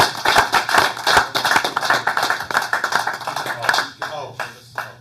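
Scattered applause from a council meeting audience in a Riverdale, Utah chamber, with dense irregular claps that thin out toward the end, under a low steady room hum.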